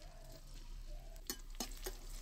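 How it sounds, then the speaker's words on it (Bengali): Onions frying in hot oil in a wok, a soft continuous sizzle with a few sharp spatula scrapes and clinks near the end, faint and close, no talk. "তেল একটু গরম হয়ে গেলে এর মধ্যে পেঁয়াজ দিয়ে দেওয়া হয়েছে"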